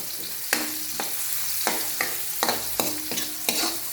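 Garlic sautés in a pan with a steady close sizzle. A spatula stirs in a repeated rhythm of sharp scraping strokes about every half second, with no speech.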